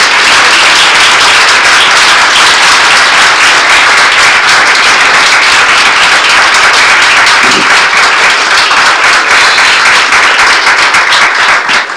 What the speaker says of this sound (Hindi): खुदा के बेटे के लिए जोरदार तालियां बजाएं।